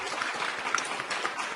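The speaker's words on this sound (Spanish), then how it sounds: "escuchando los aplausos" Steady crowd applause, dense clapping throughout without pauses.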